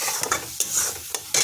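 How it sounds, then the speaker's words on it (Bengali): Mustard paste being stirred and sautéed in a pan for a kakrol (spiny gourd) dish, with a steady close sizzle broken by several sharp spoon-scraping strokes against the pan. "সর্ষে বাটা দিয়ে দিলাম। একটু কষিয়ে নিব এটাকে।"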